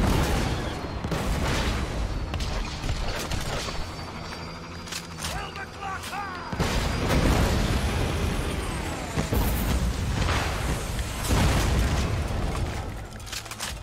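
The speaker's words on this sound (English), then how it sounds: "Big explosion. Big boom." Big explosions in the video game Borderlands 2, a series of loud booms and bursts mixed with gunfire and crackling debris, with someone talking over the action.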